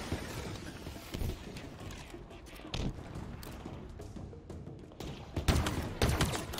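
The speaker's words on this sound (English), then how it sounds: "What are they shooting at?" Rapid gunfire from a firefight in Halo Infinite, Marines shooting in the distance; dense crackling bursts stack into a fusillade over steady game noise, with louder shots near the end.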